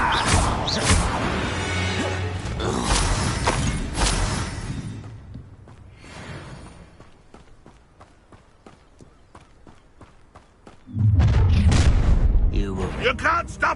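A Confringo blasting curse goes off in Hogwarts Legacy, a loud burst of booming explosive noise that fades into scattered tapping, then another heavy roar of blasts near the end, with game voices mixed in.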